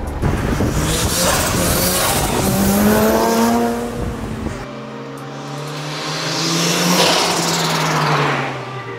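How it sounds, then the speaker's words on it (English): A Mazda RX-7 rotary engine, converted from twin to single turbo, revs hard and loud, pitch climbing and falling through two long sweeping pulls, with a brief drop between them. "the sounds that this turbo makes"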